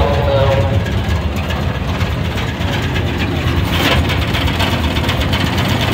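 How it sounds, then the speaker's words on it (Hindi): Used auto rickshaw at a rickshaw market, its engine idling with a steady low rumbling chug, close and fairly loud, while someone talks over it. "गाड़ी स्टार्ट है, इसका साउंड आप सुन सकते हैं।"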